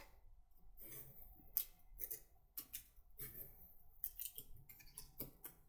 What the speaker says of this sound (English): I'm going to go ahead and cut the top off this tag like so